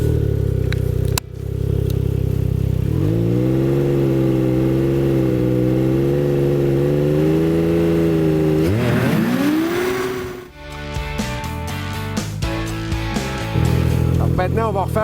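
A 2022 Ski-Doo Mach Z 900 ACE Turbo R snowmobile pulls away from a standstill in a normal start without launch control; its loud engine surges into a sustained rising whine for several seconds, then dips briefly before revving again.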